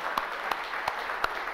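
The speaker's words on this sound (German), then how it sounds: "Ich würde nochmal um Applaus bitten für unsere neuen Gäste." Audience applause welcoming new guests at a technology salon event on robotics and AI in Hannover, a steady wash of clapping with a few sharper individual claps standing out, moderate and somewhat distant, no talking.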